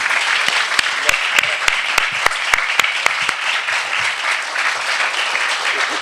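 An audience at a conference honoring the French filmmaker Alain Resnais applauds the speakers: a broad, steady wash of clapping with several sharp individual claps standing out near the front.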